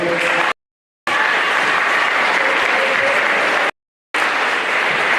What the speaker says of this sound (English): Everybody clap that up